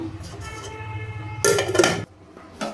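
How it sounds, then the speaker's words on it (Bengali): A cooking pot is set down on a gas stove with a bright metallic clatter and rattle that lasts about half a second, then a brief clink afterward over a low kitchen hum. "এবার আমি ডেকচিটা বসিয়ে দিলাম।"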